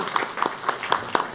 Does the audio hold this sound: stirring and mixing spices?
no